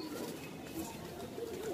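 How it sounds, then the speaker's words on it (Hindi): A small female pigeon coos softly in low, throaty, rolling murmurs, repeated a few times against quiet background noise. "बहुत छोटी सी कबूतरी है देखे आप"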